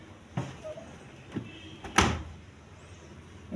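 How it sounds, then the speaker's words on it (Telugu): The door of an IFB dishwasher is pushed shut in a few soft thuds and clunks, with a firmer close near the middle, heard up close in a quiet room. "ఈ విధంగా వేసుకున్న తర్వాత డోర్ అయితే క్లోజ్ చేసుకున్నాము."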